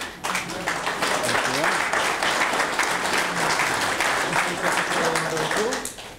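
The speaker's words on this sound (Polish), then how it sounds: "Brawa!" Audience at a Polish political debate bursts into sustained applause, dense and loud throughout, with voices calling out over the clapping.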